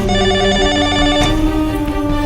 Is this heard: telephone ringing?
yes